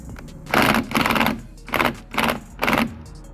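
Ratchet or impact gun spinning off a 21 mm bolt on a 2012 Seat Ibiza front shock absorber, in four or five loud, close bursts of rapid whirring separated by short pauses.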